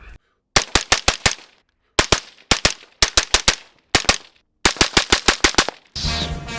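AR rifle fitted with a Siege suppressor on a chemo mount firing rapid strings of sharp, suppressed shots in several bursts of three to six, close and loud, followed by a short rustle.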